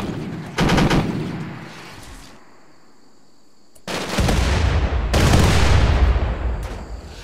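Automated turrets in the colony-building game RimWorld fire rapid bursts at raiders: two loud stretches of clattering gunfire with booming impacts, separated by a quieter gap.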